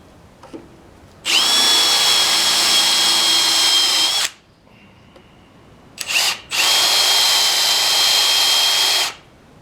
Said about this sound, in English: Yeah, I already got the drill up there.